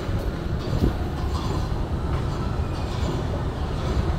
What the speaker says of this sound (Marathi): एवढी अंडरग्राऊंड एवढी खालून ट्रेन जाते